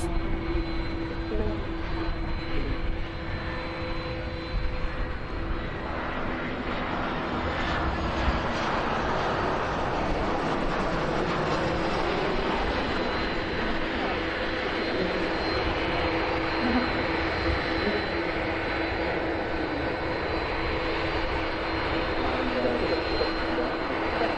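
An EasyJet jet airliner arriving at Manchester Airport, heard from the runway visitor park, makes a steady, loud roar of jet engines that fills the whole stretch and swells slightly midway.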